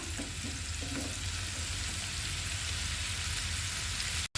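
Drumsticks fry in oil in a pan with a dense, continuous sizzle heard close up. The sound stays steady until a brief cut near the end.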